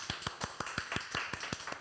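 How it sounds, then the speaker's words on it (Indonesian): A small group clapping hands in a studio talk show setting, a quick run of about ten distinct, fairly close claps in a loose rhythm, fading soon after. "Tepuk tangan dong."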